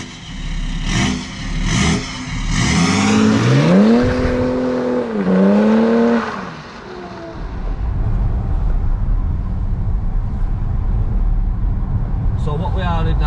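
A tuned BMW 530d in full sport mode with sports gearbox revs hard and loud, the engine note rising and falling through gear changes before settling into a steady cruising roar.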